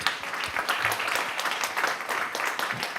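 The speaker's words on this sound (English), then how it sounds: "How about a big round of applause for that?" Audience applause at a school board meeting, a steady wash of many hands clapping together across the whole stretch at moderate loudness, with no talk over it.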